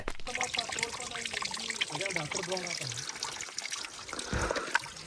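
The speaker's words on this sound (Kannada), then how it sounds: "ಇದು ಕಲ್ಲಿಂದ ಉದ್ಭವವಾಗಿ ಬರುವ ನೀರು." Water trickles steadily out of rock inside a cave that is about 1000 years old, as a continuous soft splashing flow. A voice talks over it for the first few seconds.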